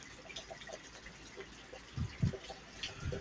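Storm rainwater pours and gurgles down a drain, a steady wet wash with a few louder splashing surges near the end, fairly close.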